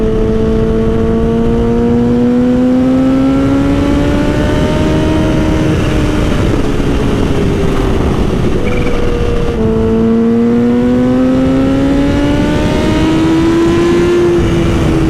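A Kawasaki Ninja H2 motorcycle accelerates hard, its engine note climbing in pitch through a gear, dropping at a shift, then rising again, loud and close throughout with no talk.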